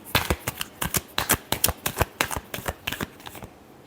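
Tarot cards are shuffled in a rapid run of crisp, riffling flicks and slaps, steady bursts close by for about three and a half seconds before tapering off.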